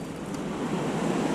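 Fast whitewater churning at the confluence of the North Fork of the Feather River, a close, steady, loud rush with some wind buffeting the microphone.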